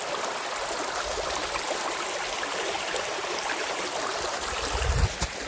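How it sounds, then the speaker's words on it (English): A small brook of crystal clear water runs across a hiking trail in Gaspésie National Park, giving a steady, close rushing and trickling flow that holds even throughout, with a slight surge near the end and no voices. "That's a nice little brook."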